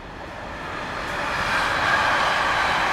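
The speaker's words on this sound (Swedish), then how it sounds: "kommer tåget" A train arriving in Arvika during a harbour festival: a steady broadband rumble that swells gradually louder over a few seconds as it approaches, with no talking.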